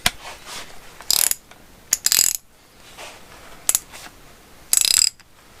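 Ratchet with a 3/8 extension working a stubborn fork bolt on a vintage Suzuki TS185 motorcycle front end: several short, loud bursts of rapid clicking separated by pauses, close up with no talk.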